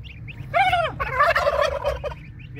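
Turkeys gobble in two close, loud bursts of rapid, warbling calls, one after the other, over a low, steady background rumble.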